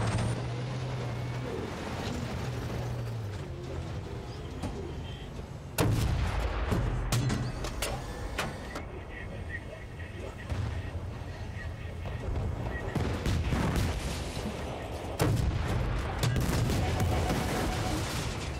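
Gunfire and explosions in the video game Battlefield Bad Company 2 crack and boom in loud, scattered bursts over a rumbling vehicle drone, with voices speaking in between.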